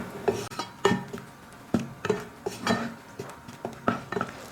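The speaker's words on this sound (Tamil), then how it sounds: "வெல்லத்தோடு சேர்த்து வாழைப்பழத்தை வந்து நல்லா கலந்து விட்டுக்கோங்க." Banana being stirred with jaggery in a pan over a medium flame, a spoon scraping and clinking against the metal in quick uneven strokes, close and moderately loud, with no speech.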